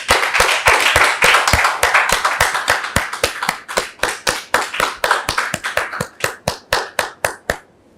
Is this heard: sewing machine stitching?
no